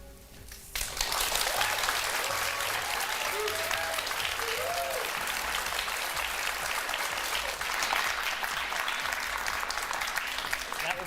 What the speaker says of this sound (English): Be the last time you hear applause